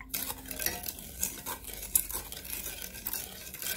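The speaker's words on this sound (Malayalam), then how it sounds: "ഈ പഞ്ചസാര ഷുഗറും എല്ലാം ഇതിനകത്തിലിട്ട് നല്ലപോലെ അലിഞ്ഞ് ചേരുന്നവരെ നമുക്കിതൊന്ന് നല്ലപോലെ മിക്സാക്കാം." A spoon stirs sugar into milk to dissolve it for Emirati chabab pancake batter, giving a steady run of scraping, clinking strokes against the bowl, close and continuous, with no talking.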